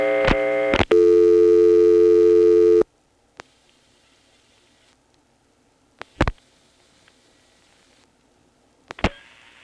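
Dialing through a 1977 step-by-step exchange near Manassas and Nokesville, Virginia: a loud tone runs for under three seconds and then cuts off. Isolated switching clicks and thumps follow over near-silence, ending in a brief tone burst.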